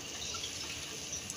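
Hot water is poured into a Kokani-style gravy of drumsticks, potato and dried Bombay duck, making a soft continuous trickling, splashing wash at low volume, with no talking.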